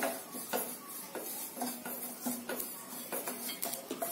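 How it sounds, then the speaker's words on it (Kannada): Curry leaves dry-roast in a pan while a utensil stirs, giving quiet, regular scraping and clinking strokes close by with a faint background hiss and no talk. "ಇವಾಗ ಕರ್ಬೇವನು ಸ್ವಲ್ಪ ಹಾಗೆ ಫ್ರೈ ಮಾಡ್ಕೊಳ್ಳೋಣ"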